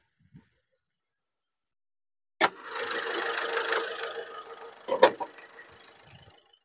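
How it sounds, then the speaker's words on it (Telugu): A Ford EcoSport Trend Plus diesel engine cranks and fires after a quiet pause, then runs with a rough, rattling idle close by, with a couple of louder revs or knocks before it settles. "ఇంజన్ అయితే నేను స్టార్ట్ అయితే చేస్తున్నాను చూడండి ఒకసారి."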